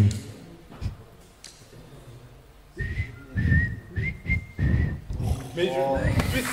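Someone whistles a short melody up close, the clear pitched notes rising and holding, with voices and rustling around it.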